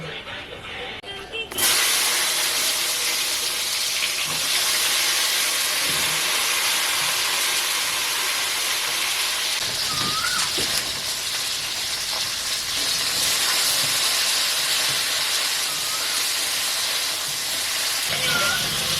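Okra frying with salt in leftover fish oil, a continuous close hissing sizzle that swells in after a quiet start and holds steady, with occasional faint utensil sounds and no speech.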